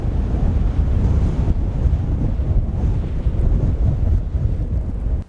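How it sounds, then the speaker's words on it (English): Hard wind blowing outdoors in a Nevada valley buffets the microphone with a steady, loud, low roar that swells and eases slightly for several seconds before cutting off, with no talk. "Thanks, wind."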